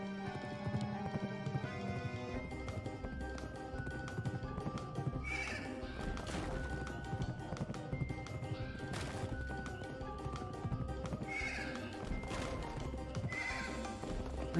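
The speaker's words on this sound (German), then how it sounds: "Hier scheint das Pferdchen schon ein bisschen schneller unterwegs zu sein" Horse galloping in the video game Pumpkin Jack, rhythmic hoofbeats pounding under background game music, with neighs and occasional crashing impacts, steady and continuous throughout.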